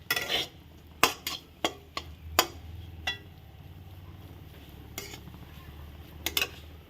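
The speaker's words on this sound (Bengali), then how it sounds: "এর মধ্যে জিরে গুঁড়ো দিয়ে দিচ্ছি, আর দিয়ে দেবো ধনিয়া গুঁড়ো, দিয়ে একটু ভালো করে নেড়ে নেব।" A spoon knocks and scrapes against a pan as cumin and coriander powder are stirred into frying food, sharp metallic clinks at irregular intervals over a faint low sizzle.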